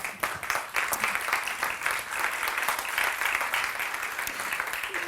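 Applause from a conference audience for partners at an opening session on responsible and inclusive business, sustained even clapping from many hands heard from a moderate distance without pause.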